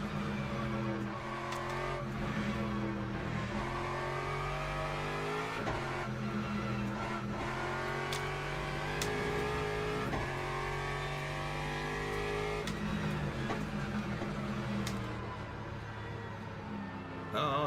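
A race car engine sounds on a lap of Spa in the racing game Le Mans Ultimate, revving high and shifting repeatedly in a sustained, fairly quiet drone with brief tire squeals.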